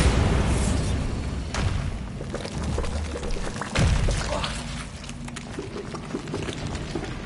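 A Bombarda blasting spell goes off in a video game, a heavy booming burst with a sharp thump near the middle, then rumbling debris and crackle trailing on, loud and close with no talk.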